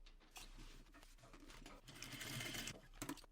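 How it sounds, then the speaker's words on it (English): A sewing machine stitches around a fabric phone sleeve with a quarter-inch seam, a steady close whirring run with short pauses and bursts, no talking. "we're going to head over to our sewing machine and using a 1/4 inch seam allowance, we're going to stitch around here"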